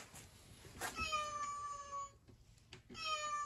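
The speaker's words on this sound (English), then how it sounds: "I heard the voice of cat." A cat meows several times at a mini zoo during a school outing, clear drawn-out calls standing out over a quieter background of faint voices.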